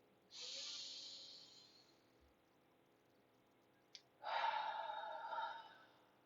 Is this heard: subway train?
no